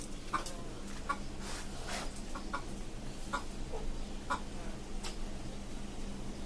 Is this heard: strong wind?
no